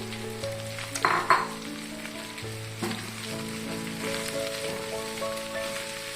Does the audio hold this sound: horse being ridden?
no